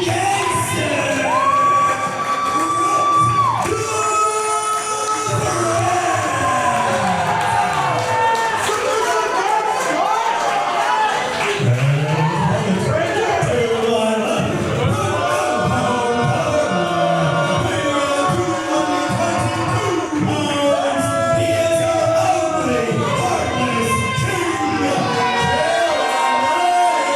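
A wrestling arena crowd jeers Jeremiah Fresh before his singles match against Bret the Threat: loud, sustained crowd roar with scattered yells and whoops throughout, voices shouting over the din.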